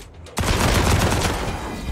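A sudden burst of gunfire from the Wasteland 3 role-playing game starts after a short quiet moment, then a loud, dense crackle runs steadily to the end with no talking over it.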